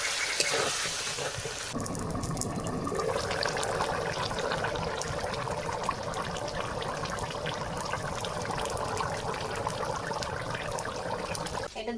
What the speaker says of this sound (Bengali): আর এখন আমি জল দিয়ে দেবো এখানে